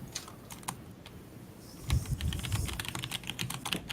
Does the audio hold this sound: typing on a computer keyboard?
yes